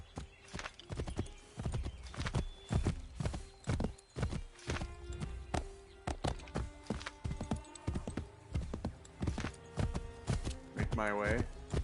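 Horse hooves clop in a fast, steady galloping rhythm throughout Assassin's Creed III Remastered gameplay, loud and close, with a brief whinny and game voices underneath.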